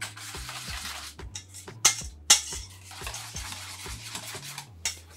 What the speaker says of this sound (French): On verse le jus de citron dans la préparation et on remue à nouveau.